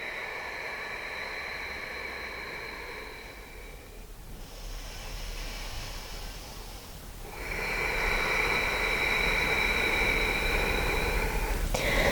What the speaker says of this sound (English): Come back into your calming Ujjayi breath. Long deep inhales. Long deep exhales.